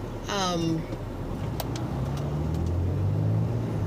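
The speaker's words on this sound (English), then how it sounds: "it's a lot of cars." Cars passing on a road, a steady low traffic rumble with a vehicle sweeping by early on, fairly close and continuous throughout.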